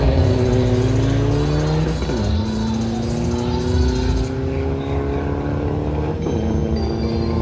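Tuned, modified cars race at a track during the Valley Run 2024 summer event. Loud engines rev and drone with rising and falling pitch, several passing close and overlapping one another throughout.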